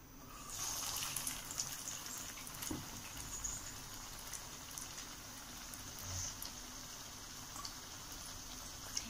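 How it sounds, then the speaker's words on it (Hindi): Aloo tikki deep frying in hot oil in a kadai, a steady soft bubbling sizzle with occasional crackles, close by and fairly quiet throughout. "अब हम अपनी टिक्की को एक एक करके डीप फ्राई करेंगे"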